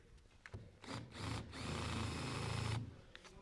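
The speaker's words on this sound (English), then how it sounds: "what we're going to use instead is the hardiest drill bit we have, and we're going to just lightly put it in the top here." A drill bit cuts countersink holes into ramp wood, heard as a few short bursts followed by one longer, steady whirring grind close to the microphone before it stops.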